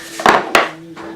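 Hammers strike square metal wire being forged into earrings, with two loud, sharp metallic blows close together and a fainter third tap after a short ringing pause.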